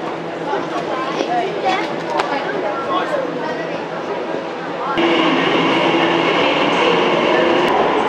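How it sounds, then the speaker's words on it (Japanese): Ambience on a Heathrow Express train platform in London, with the steady rumble of rail equipment that swells louder partway through, heard under a person's speech. "ということで乗り場に到着いたしました。"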